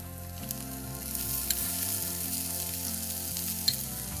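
Spices sauté in oil before sliced onions go in during a chef's cookery demonstration at a resort, making a steady close sizzle with a few small pops over soft background music.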